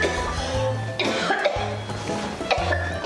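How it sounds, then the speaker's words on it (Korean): Dry coughing from a person, a few harsh hacking bursts close to the listener, spaced roughly a second apart, with faint voices around them. "마른 기침이 계속 나온다."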